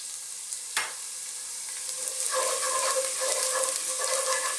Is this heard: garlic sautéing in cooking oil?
yes